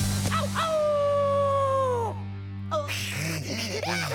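Cartoon werewolf letting out a long sustained howl with a steady pitch that bends downward at the end, loud and close, over a music bed, followed by a short yelp.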